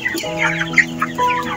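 Chickens clucking close by in a short burst of overlapping calls, with a few sharper bird notes over a steady low hum in the background.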